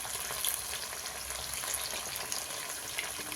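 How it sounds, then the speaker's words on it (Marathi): Pieces dropped one by one into very hot oil deep-fry with a dense, even, loud hiss of bubbling that holds steady throughout. "आता ह्याच्यात एक एक असं सोडून घेऊया"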